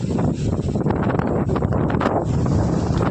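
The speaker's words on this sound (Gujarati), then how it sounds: "પવન આવે છે એમ લાગે છે કે હું ઉડી જ જાઉં" Strong wind roars and buffets the microphone nonstop in a date-palm orchard, a dense close rumble with faint rustling mixed in.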